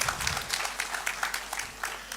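An audience applauds with a lively patter of many hands clapping at once, the sound fairly close and continuous with bursts of sharper claps throughout.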